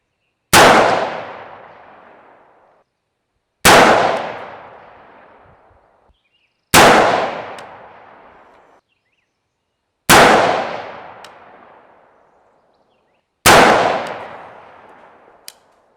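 Five loud, sharp shots from a Bushmaster A2-style rifle firing 55 grain steel-cased ammunition, evenly spaced about three seconds apart, each followed by a decaying outdoor echo.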